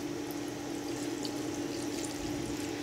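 Chicken broth pours steadily over cabbage in a crock pot, a continuous soft liquid rush at moderate loudness with no talk over it.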